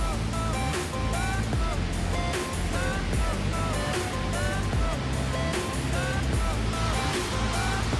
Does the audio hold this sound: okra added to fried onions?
no